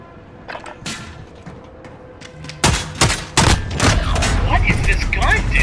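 Video game gunfight: sparse early shots, then a loud burst of rapid, overlapping gunfire and booms that keeps going to the end, with voices talking through the shooting.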